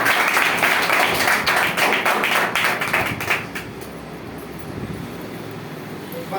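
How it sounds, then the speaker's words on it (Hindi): An audience claps at a health product and plan presentation, with loud, dense clapping for about three and a half seconds before it fades to quiet room noise. "तो एक बार जोड़ो तालियां हो जाए।"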